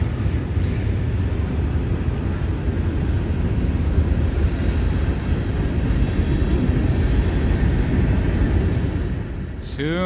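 A local freight train rumbles past close by with a steady heavy roar of wheels on rails, and a brief high squeal near the end.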